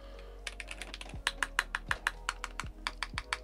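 Typing on a Keychron Q3 custom TKL mechanical keyboard after a tape mod, giving a string of crisp, close keystroke clacks in an uneven rhythm with a few louder, deeper strokes mixed in and no talking.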